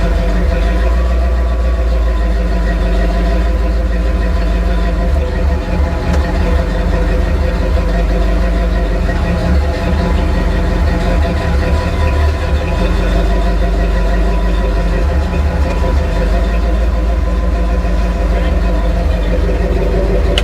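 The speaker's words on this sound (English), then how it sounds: "I'm going to bring the truck all the way." A truck's medium engine idles steadily and fairly loud throughout, a continuous low rumble at a scrap job, with people talking over it.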